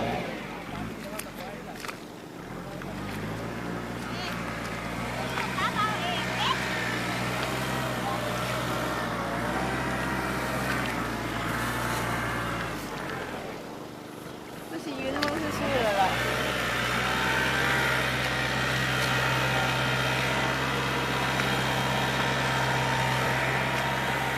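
A farm tractor engine runs steadily in a field with a low, constant drone, briefly dipping mid-clip before resuming, while people talk nearby over it.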